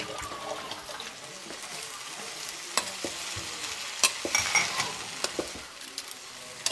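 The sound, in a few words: sardines with water frying over a wood fire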